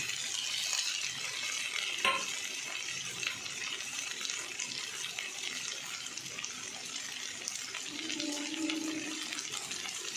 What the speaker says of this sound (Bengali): ধনেপাতাটা দিয়ে এবার আমি মিশিয়ে নিচ্ছি।